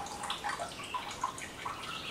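Waste vegetable oil drains from a container, giving a steady liquid trickle broken by small irregular drips and splashes that stay close and fairly quiet, with no voices.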